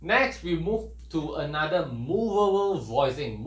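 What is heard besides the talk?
None of the usual background noises is heard.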